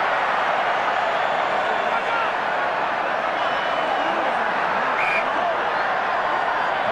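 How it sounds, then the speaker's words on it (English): Rugby stadium crowd during a Mexican wave at the 2003 Rugby World Cup match between Scotland and the USA, a loud, continuous roar that rises and falls gently, with a commentator speaking faintly over it. "Noise of the Mexican wave doesn't help communication, of course."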